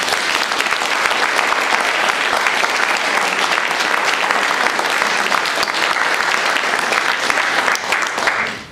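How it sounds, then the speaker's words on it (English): An audience at a New York City book awards evening applauds the winners, a sustained, full round of many hands clapping at an even level before tapering off at the end. "let's do a big round of applause for the winners once again."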